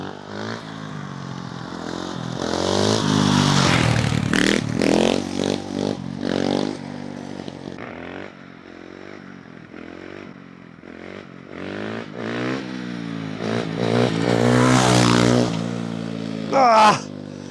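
A road-legal motocross bike roars past close by, its engine note rising and falling through sharp revs, loud and rough, with a final quick rev near the end.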